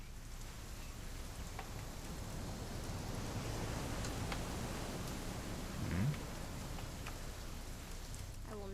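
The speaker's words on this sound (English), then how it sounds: "It's gonna rain the whole weekend, isn't it?" Steady rain falls in the video game What Remains of Edith Finch, a continuous soft hiss of drops on surfaces that holds evenly throughout, with a brief low thump partway through.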